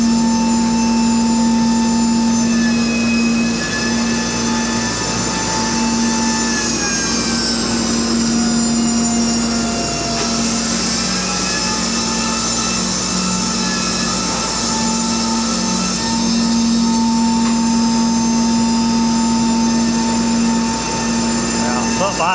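A sawmill cuts a big log into lumber, a loud, continuous mechanical whine with steady engine hum and shifting tonal pitches as the blade works through the wood, sustained without pause.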